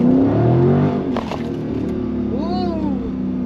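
A widebody Dodge Charger accelerates hard on a pull run, its engine note rising loud and close in a steady roar that holds throughout, heard from inside the car without talk.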